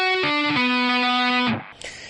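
A guitar plays a descending arpeggio across five strings, with bright sustained notes stepping down in pitch one after another before ringing out and fading, heard alone.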